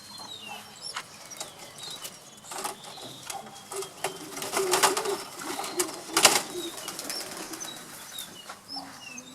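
Young racing pigeon squabs in a loft, including one with trichomoniasis, giving soft intermittent coos amid scattered fluttering and small mechanical clicks.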